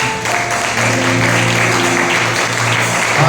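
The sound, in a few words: church congregation applause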